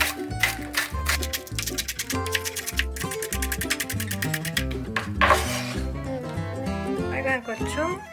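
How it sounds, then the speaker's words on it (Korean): A knife slices green onions on a cutting board in quick, rapid bursts of crisp taps, heard under prominent background music. "파를 송송 썰어줍니다"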